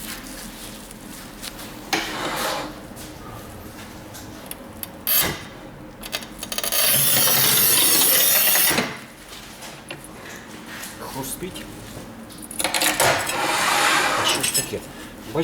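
A manual tile cutter scores and snaps a small piece of ceramic tile in half, giving loud, gritty bursts of scraping and cracking separated by quieter stretches of handling noise.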